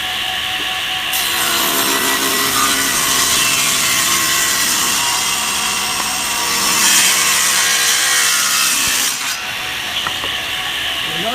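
A table saw ripping wood into 1.5-inch strips, a loud, steady whining cut held for about eight seconds before the blade spins freely again, no talk.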